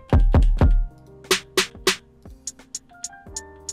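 Three deep drum machine kick hits, then three sharp snare cracks, followed by a run of light, crisp hi-hat ticks, each played alone in sequence.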